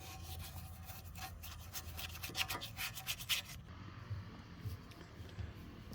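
Scrubbing old gasket residue off the mating surface of a 2012 Ford Escape oil pan: a close, steady run of rasping rub strokes that stops partway through, leaving a quieter background.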